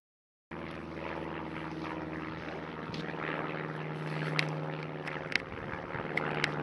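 A steady low propeller drone hums overhead, constant and moderately distant, with a few faint clicks and rustles near the end.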